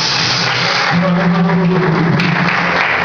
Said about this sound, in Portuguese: Bate palma e adora a Deus mais forte.